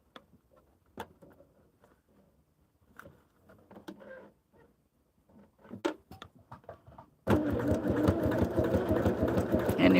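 Sewing machine stitching pre-printed foundation pieces for a red, white and blue quilt, starting abruptly after a stretch of quiet clicks and handling noises, then running steadily and loudly to the end.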